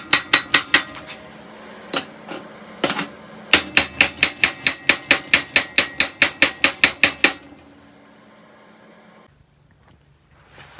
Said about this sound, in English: Just see if we can tap on it.